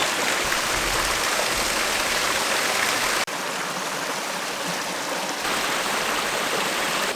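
Broadband rushing and splashing of stream water inside a cave as someone wades through it, a steady loud wash with a brief break partway through.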